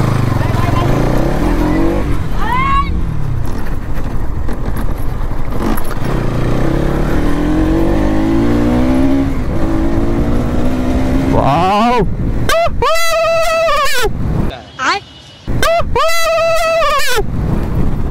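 A Bajaj Pulsar NS200 motorcycle revs and accelerates, with engine pitch sweeping upward in several rising pulls. Loud, close revving bursts follow near the end, and talk runs underneath.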